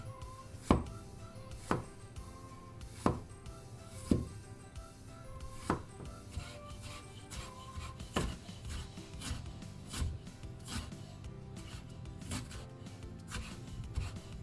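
Knife cutting slices of fresh ginger on a wooden board, a series of distinct crisp chops at uneven intervals, fairly quiet and close, with light rubbing sounds between strokes.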